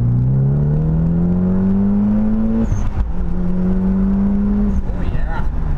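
Mitsubishi Lancer Evolution engine with a racing downpipe and tune, running loud and close, revving up in a steady rising drone, dipping briefly near the middle, then climbing again.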